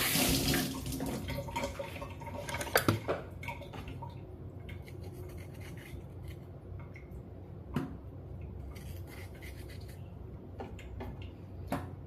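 Cabbage is rinsed under a running tap in a kitchen sink, with a steady close gush of water and occasional splashes and knocks as the leaves are handled.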